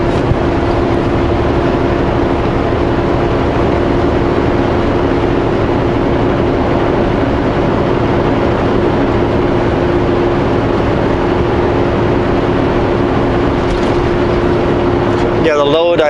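A semi truck hauling a load of cut stones descends a hill on the Coquihalla Highway, its engine a loud, steady low drone that holds without a break, ending in a brief rattling clatter.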